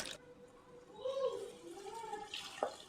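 Water sloshes and pours as a mixer jar is rinsed out with a little water into a pot of vendakkai mor kulambu being cooked in a home kitchen, a soft, brief splashing with gurgling at the end.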